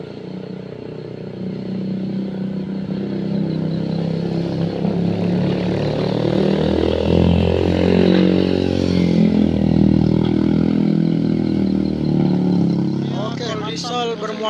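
A heavily loaded Colt Diesel truck towing an overloaded Traga pickup gives a loud, steady engine drone that builds and revs under strain from start to finish, with rattling and clatter on top and a voice heard over it.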